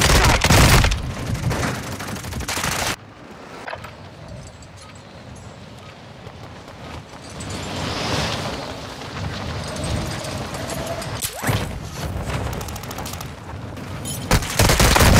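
Scattered gunfire and booming blasts in a Call of Duty: Modern Warfare II match. Loud bursts come at the start and end, separated by a quieter stretch of distant shots and rumbling ambience.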